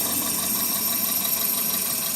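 A 2000 Toyota Celica GTS engine runs at a steady high idle with a fault, giving an even, continuous mechanical hum and whir recorded close up, with no talking.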